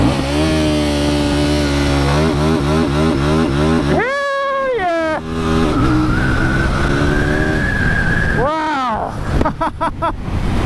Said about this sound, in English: Let us test out the launch control.